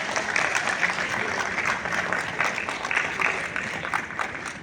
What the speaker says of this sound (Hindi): सो उन आउटस्टैंडिंग बच्चों के लिए एक जोरदार तालियां हो जाए